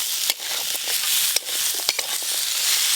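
Fried eggplant goes into a pan of spicy crab curry, setting off a loud, steady sizzle with a few scraping stirs and clunks over it.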